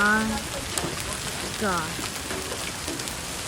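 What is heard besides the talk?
hail falling outside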